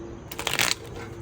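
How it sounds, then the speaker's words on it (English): Tarot cards being shuffled by hand, a short burst of crisp riffling and flicking in the middle, close and fairly loud over a quiet background. "now I feel like people are judging my shuffling skills"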